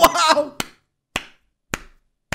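Claps from a player celebrating during a golf game in Minecraft, a short burst of voice followed by four crisp, evenly spaced claps, close and clear against silence.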